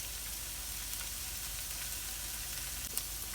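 Onions softening in oil in a pan for a kale and chorizo hash, a soft, even sizzle and crackle throughout, faint and steady with no voices.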